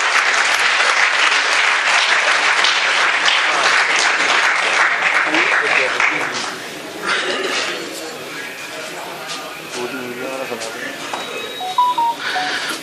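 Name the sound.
applause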